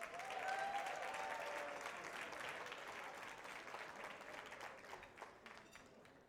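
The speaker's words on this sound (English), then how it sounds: "Give him a round of applause" Audience applause at an awards dinner for a scholarship recipient, a broad sustained clapping crowd heard from a distance, fairly faint and slowly tapering.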